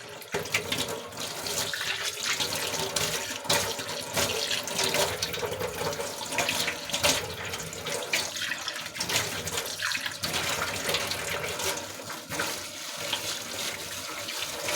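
Tap water runs continuously into a sink, splashing and sputtering as dishes are rinsed, with occasional clinks and shifts in the flow.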